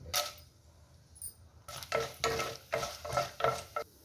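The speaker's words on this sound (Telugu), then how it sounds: "ముందుగా పోపు దినుసులు వేస్తున్నాను." Tempering spices and dried red chillies fry in a pan in a series of crackling, sizzling bursts, with a metal spoon stirring and scraping against the pan; close and moderately loud, with no talking.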